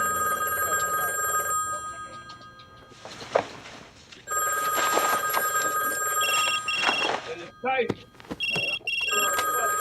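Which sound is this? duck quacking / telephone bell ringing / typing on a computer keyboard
telephone bell ringing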